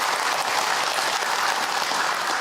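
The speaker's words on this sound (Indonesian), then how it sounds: "Tepuk tangan buat bunda yang bertanya" Audience applause for a woman who asked a question at an Islamic religious lecture: dense, steady clapping from a crowd that fills the whole stretch at an even level, with no talking over it.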